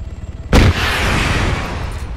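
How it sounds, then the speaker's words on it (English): A rocket explodes in a shooter video game with a sudden loud close blast that rolls into a lingering rumble, after a faint low murmur. "Nice rocket, Gene."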